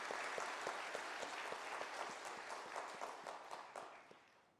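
Steady applause rises from a church congregation during a Sunday service, a soft, distant wash of many hands clapping that gradually eases toward the end.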